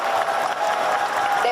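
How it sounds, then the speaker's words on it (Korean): Crowd applause from the audience at a Busan International Film Festival open talk, with dense, even clapping under a faint tonal hum and a few voices mixed in. "박수 부탁드릴게요."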